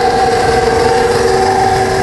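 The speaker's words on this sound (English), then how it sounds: "KitchenAid mixer is set at the widest attachment to start." A KitchenAid stand mixer drives a pasta roller attachment set at its widest setting, giving a steady, loud motor whine with a constant tonal hum and no breaks, close by.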